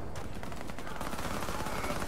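Rapid SIG Sauer 226 pistol fire in the Warface shooter game, a dense stream of sharp shots running continuously at steady loudness, with no speech.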